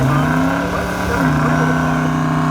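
A Mercedes accelerates down a drag strip with a steady, loud engine drone that shifts pitch midway, while a commentator's voice runs underneath.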